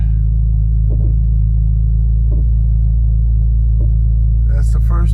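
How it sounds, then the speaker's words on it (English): Cadillac CTS engine stuck at high revs after a cold start, a loud, steady low droning rumble that holds throughout, with a few brief sounds on top. "And the engine is still high. You can hear it still."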